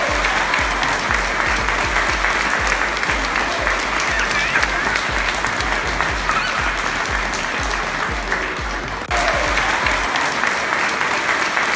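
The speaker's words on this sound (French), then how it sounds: "Applaudissez encore une fois s'il vous plaît." A crowd applauds loudly and continuously for about ten seconds, a dense, even roar of clapping with a thumping low beat underneath that drops out near the end.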